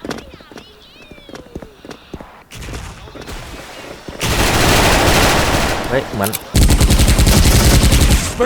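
Rapid bursts of gunfire in the video game Special Force, team mode, from an OWL UZI 2nd Gen, a sustained automatic stream of shots after some scattered cracks, with someone talking excitedly over the action.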